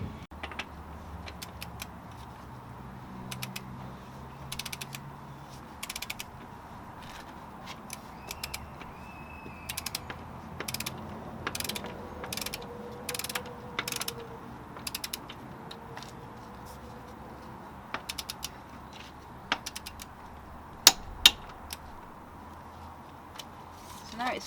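A ratchet tightens the rear axle nut on a motorcycle during chain adjustment, giving intermittent short creaking clicks and ratcheting bursts spread across the clip, with metallic handling noises in between.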